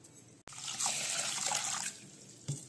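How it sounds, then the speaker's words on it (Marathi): Small quick-cooking sago pearls are swished and washed in water in a kitchen, giving a soft, close sloshing and trickling that lasts about a second and a half before a brief splash. "चांगलं धुवून घेऊया"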